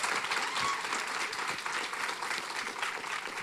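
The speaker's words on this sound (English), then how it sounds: "give them a round of applause" An audience at a women business leaders forum applauds the panelists, a broad, continuous sheet of clapping that holds loud and steady before easing slightly.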